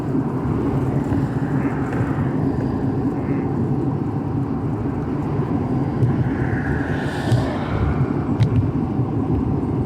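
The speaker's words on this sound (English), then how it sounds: "There's a car coming up behind you." Car approaching from behind on a road, a continuous broad low rumble of engine and tyre noise that builds slightly toward the end, heard steadily with no voices over it.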